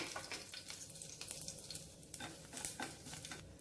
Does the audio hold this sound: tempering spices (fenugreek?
yes